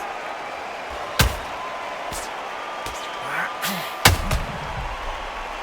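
Sharp heavy punch impacts land in a boxing video game replay as Muhammad Ali is knocked down, two loud thuds standing out among smaller hits over a faint crowd hum.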